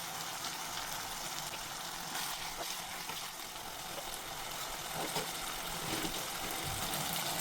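Chicken liver and gizzard masala sizzling in a pan after water is poured in, a loud, dense, even frying hiss that carries on steadily without talk.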